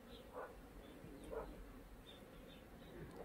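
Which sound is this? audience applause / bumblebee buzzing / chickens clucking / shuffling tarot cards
bumblebee buzzing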